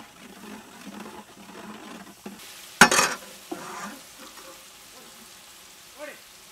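Peeled shallots and garlic hit hot oil for a tempering, giving a soft, steady sizzle with a sharp crackling burst and a few stirring clatters, fairly quiet and close.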